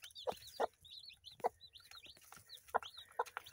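Broody hen with newly hatched baby chicks: soft, close clucks in short bursts mixed with high, thin peeping from the chicks, quiet overall.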